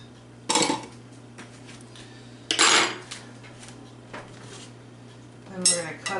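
Banana bread batter being mixed in a bowl, giving three separate bursts of utensil scraping and clinking against the bowl, with quiet pauses between and a steady low hum underneath.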